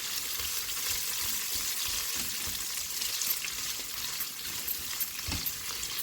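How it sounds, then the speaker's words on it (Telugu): Dried red chillies fry in a pan of oil for a carrot, coconut and chana dal curry, giving a steady, dense sizzle throughout with a few soft knocks and no voices. "ఇవన్నీ వేసి మనం ఫ్రై చేసేసుకుంటూ ఇది కూడా గోల్డెన్ బ్రౌన్ వచ్చేలాగా వేయించుకోవాలండి."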